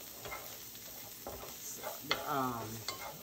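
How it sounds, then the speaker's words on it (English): Vegetables with garlic sauté in a pan for a Louisiana crawfish bisque, producing a faint, low sizzle with a few soft scrapes and clinks as they are stirred. No one speaks. "they've been sauteing for about 10 minutes"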